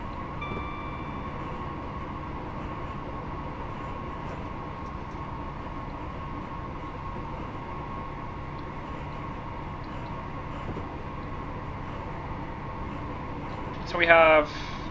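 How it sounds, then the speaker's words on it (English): A steady, droning Class 158 train in Train Sim 2019 rolling near its 90 mph top speed between York and Garforth with a constant hum, and a short rising whine near the end. "Now approaching 90 miles an hour, the train's max speed."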